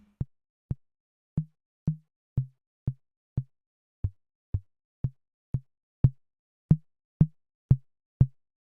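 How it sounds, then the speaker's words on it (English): A dry synthetic 808 kick drum thumps eighteen times at a steady, brisk pulse. Each hit is short and low, with a sharp click at the start and a fast decay. "So a kick is very quick in the transient."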